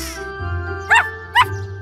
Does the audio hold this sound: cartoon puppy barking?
yes